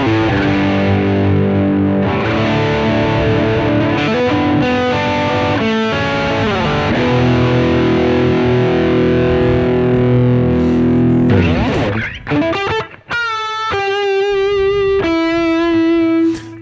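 An electric guitar played through heavy distortion set to maximum rings out with thick, sustained chords and notes, loud and close, ending in a few cleaner picked notes that decay, with no talking.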